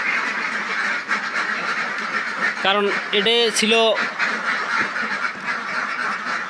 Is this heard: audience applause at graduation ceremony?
no